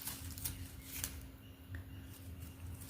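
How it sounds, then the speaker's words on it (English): Scissors snip leaves off a lucky bamboo stem, a few short, sharp cuts spaced apart over a low steady background hum. "Cutting off all the leaves below."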